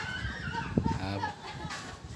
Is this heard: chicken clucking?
yes